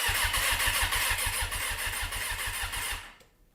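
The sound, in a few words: Suzuki RF900R motorcycle engine being turned over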